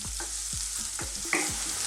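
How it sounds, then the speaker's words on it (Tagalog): Garlic, ginger and onion sautéing in a pan give a steady sizzle, with about four rhythmic scraping stirs of a spatula close by. "Nagisa na natin yung ating bawang, luya at ang sibuyas."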